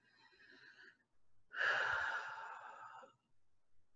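A slow, deep breath during a quiet meditation with hands over the heart: a soft exhale, then a long, fuller breath of about a second and a half, close and gentle, with no talking.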